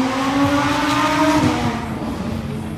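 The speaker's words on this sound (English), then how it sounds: "Wow, that was a R8." A high-pitched Audi R8 V10 roars past close by on a street, its engine note rising then falling away as it recedes.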